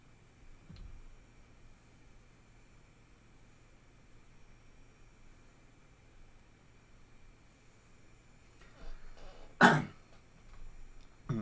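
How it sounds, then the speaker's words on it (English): Several harsh coughs and a throat clear burst out near the end, loud and close, after a long stretch of quiet room tone with one faint earlier cough. "Sorry that I'm coughing all the time."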